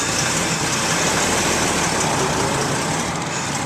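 The engine of a 1921 Paige car runs steadily up close, a dense, loud, unbroken drone with no voices over it.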